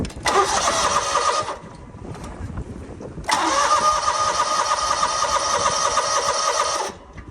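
A farm tractor engine being cranked and started twice, a short burst that dies away and then a longer, louder run that cuts off after a few seconds, close by.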